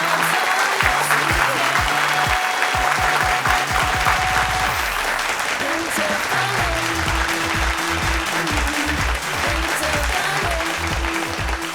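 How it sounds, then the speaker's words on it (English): Audience applause for the St. Sylvester's College Kandy quiz team as they come up for their certificate, steady loud clapping filling the whole stretch alongside a rhythmic low-frequency musical beat. "Let's give them a round of applause as they come up to get their certificate."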